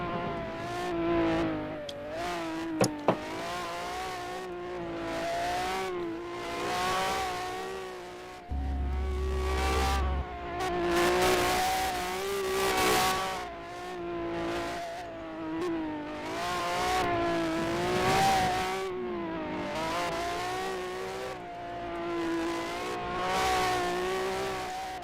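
A supercar laps a circuit during a time attack event at SNGP, its engine droning loud and continuous as it rises and falls through gear changes and corners, with no voices.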